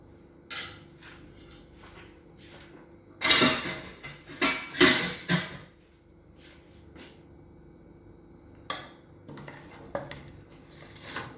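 A pot of dal kichdi with rice being stirred, a spoon clanking and scraping against the metal in a few short bursts separated by quieter pauses, close and fairly faint.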